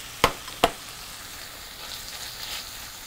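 Food stir-fries in a pan for a homemade radish-greens pasta, giving off a soft, steady sizzle. Two sharp utensil clicks land near the start.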